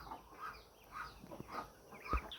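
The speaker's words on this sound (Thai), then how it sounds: "อันนั้นไก่พันเด้อค่ะ" Bantam chickens in a backyard give a few soft, scattered clucks at a modest distance, with a slightly louder call near the end and no one speaking.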